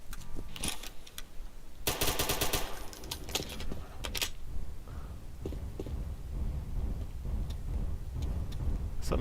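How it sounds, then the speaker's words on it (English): An AK rifle fires in rapid automatic bursts in a DOOM II mod, with sharp, loud volleys packed closely together, then scattered single shots over a low rumbling background. "Man, that AK is uncontrollable."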